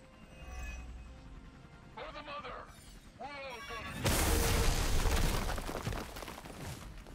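A heavy explosion in Marvel's Midnight Suns erupts after several seconds of game sound effects and chatter, a loud rumbling blast that lingers and slowly fades.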